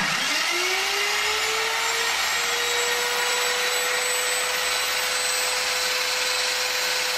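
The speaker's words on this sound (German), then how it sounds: "die sägen einfach den Tisch ab mit einer Kreissäge" A circular saw cuts through a school table, a loud, piercing sustained whine that starts with a rising pitch and then holds a steady high-pitched drone over harsh grinding noise, with no talking.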